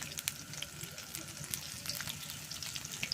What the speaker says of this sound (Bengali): আমার চপগুলো ভাজা হতে থাক